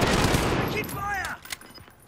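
Call of Duty Modern Warfare Warzone gunfire crackles in dense, overlapping bursts for the first second and a half, then thins to a few scattered shots, with faint voices in the background.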